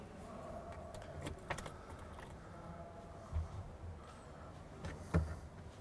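Keys jingle and rattle in the ignition of a Maruti 800, the first Suzuki-badged example sold, with a few sharp metallic clinks and small knocks standing out against a quiet cabin.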